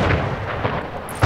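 Naval cannon fire during a ship battle in the Anno 1800 strategy game, a continuous rumbling barrage of booms with a sharper blast near the end, heard alone without talk.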